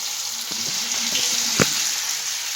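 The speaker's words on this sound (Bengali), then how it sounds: "আলু ভাজা করছি" Potatoes frying in a pan give a steady close sizzle, with light scraping and clicks from a utensil stirring and one sharper knock partway through.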